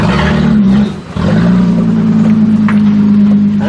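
A Toyota Camry engine running rich idles loudly and steadily up close, with a strong low hum, a brief dip in level near the one-second mark, then a continuing even drone.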